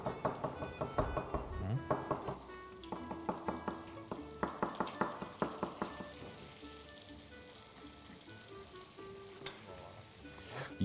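Onions fry in a pan with precooked red beans, sizzling steadily throughout while a spoon stirs and scrapes in rhythmic clusters of clattering strokes, loud and close with no talking.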